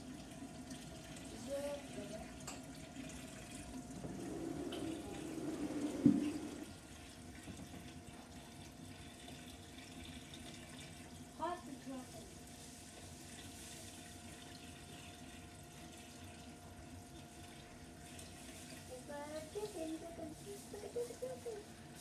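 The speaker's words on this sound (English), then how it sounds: "Nice bit of water movement on the surface for the gas exchange." Steady low water swirl and gentle surface splashing in a marine aquarium, continuous and soft, with faint bubbling and a few small knocks through it.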